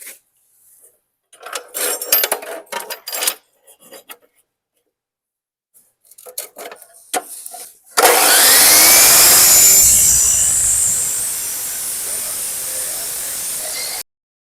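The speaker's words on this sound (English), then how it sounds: "So cutting this all thread" An abrasive cutoff tool slices through a threaded steel all-thread rod for a cow gate, a loud sustained high-pitched shriek running for about six seconds after several scattered bursts of clanking and handling.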